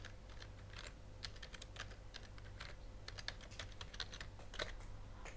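Someone types a password on a computer keyboard: a quiet, steady run of light key clicks with an irregular rhythm, close up and with no talking.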